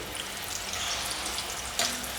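Marinated beef pieces for crispy sweet and sour sesame beef deep-frying in hot oil: a steady, close, bubbling hiss with no talk, swelling into a short louder crackle near the end.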